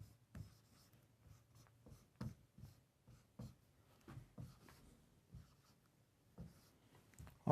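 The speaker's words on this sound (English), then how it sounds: "So let's write up the formula for a hemisphere." Pen or marker strokes as a hemisphere volume formula is written out by hand, scratchy and close, with short bursts separated by brief pauses and no talking.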